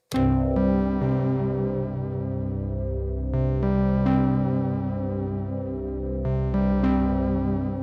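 A sustained Hydrasynth synth pad, recorded into a 1010music Nanobox Tangerine sampler's sequencer, plays layered chords that shift every few seconds, smooth and effected with a slight chorus shimmer, no voices.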